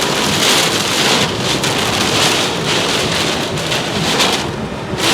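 Heavy rain pours steadily and loudly during a tornado storm in Adel, Georgia, a dense continuous hiss with wind buffeting the microphone and no talking.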